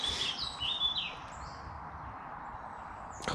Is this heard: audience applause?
no